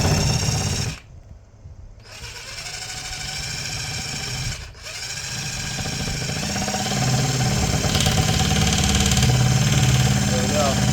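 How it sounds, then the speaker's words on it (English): A handheld jigsaw runs with a loud, close motor buzz, cutting out twice briefly before starting up again and droning on, while someone talks over it. "The safety switch on this jigsaw is really pissing me off."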